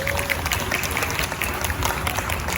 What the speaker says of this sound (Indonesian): Tepuk tangan buat orang tua saya.